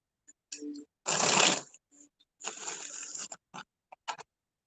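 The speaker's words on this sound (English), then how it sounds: "Just gonna shuffle these up really quick." Tarot cards are shuffled in quick riffling bursts, close and crisp, with short gaps and a few light taps between shuffles.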